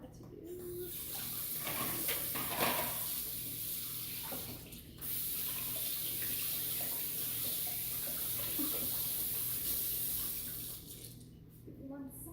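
Tap water runs steadily into a sink as a spoon is rinsed in a home kitchen, a continuous close splashing rush with faint clinks that stops abruptly partway through.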